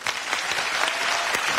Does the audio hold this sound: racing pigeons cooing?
no